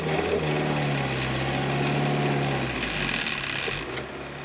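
A manual-transmission car moves off in a high gear while the driver rides the clutch, its engine holding a steady, strained labouring drone that eases slightly near the end.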